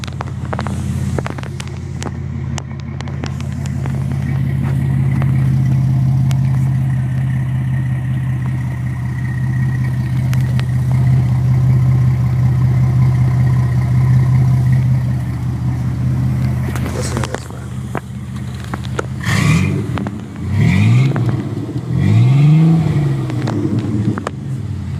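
A 2004 Chevy Blazer custom show truck starts and settles into a steady low idle, then revs sharply a few times near the end, close and loud, with speech over it.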